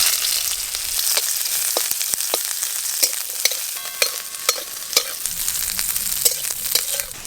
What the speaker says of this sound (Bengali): লাউ শাকের তেতোর জন্য প্রথমে আমি উচ্ছেগুলো ভেজে নেব।